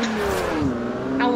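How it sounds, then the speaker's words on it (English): Car engines rev in the Forza Horizon 4 racing game ahead of a dirt race, a loud steady engine drone whose pitch sags and then climbs again. "And start up our engines."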